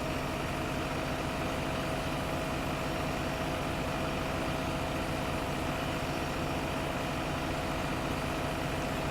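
A tractor engine in Farming Simulator 15 drones steadily while pulling a planter through a field, a loud, constant low rumble with no change in pitch or pace.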